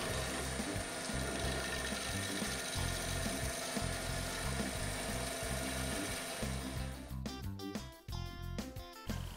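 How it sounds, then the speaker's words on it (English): Finishing cuts with a freshly sharpened skew chisel on a walking stick spinning on a lathe fitted with a Holzberg steady rest: a steady, rhythmically pulsing hum, then sharper broken scraping bursts toward the end, close and loud, with no talk. "now doing finishing cuts with a skew chisel freshly sharpened"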